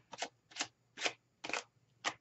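Tarot cards are shuffled in five quick riffling bursts at a steady rhythm, close and crisp, with short pauses between them.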